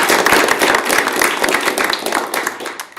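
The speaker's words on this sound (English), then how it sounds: "let's give a round of applause for everyone" Applause from an audience at a sustainable infrastructure design workshop, a dense steady round of clapping lasting a few seconds, fairly loud and close, with faint voices underneath.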